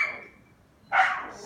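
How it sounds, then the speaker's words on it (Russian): After a quiet pause, a dog gives one sharp, fairly close bark, and a second bark begins just as it ends. "Собака бестолковая, это пиздец."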